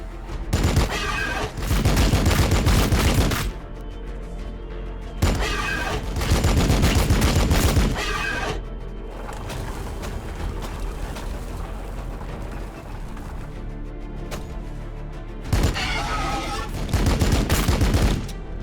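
Heavy gunfire and explosions in Warhammer 40,000: Battlesector, a Tyranid campaign battle, arriving in loud dense bursts that alternate with quieter stretches of distant combat rumble.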